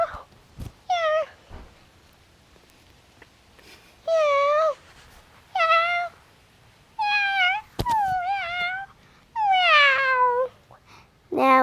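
A voice imitates a cat, giving a series of about seven separate meows, rising and falling and drawn out, with short pauses between them, close and fairly loud with no other talk.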